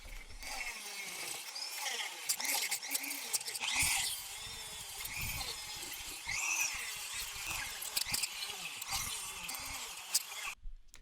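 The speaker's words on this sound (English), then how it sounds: "Torso feels just a little too long. I'm going to cut this in half and then grind it down just a little bit." Power tool cutting through a plastic action figure torso, a whining, screeching grind that rises and falls in bursts over several seconds, fairly close and alone.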